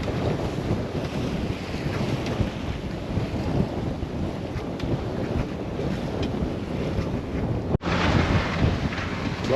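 Gusty wind buffets a sailboat cruising among the Greek islands, a loud, continuous rumbling roar with wave wash beneath it and one brief sharp break near the end, no voices heard.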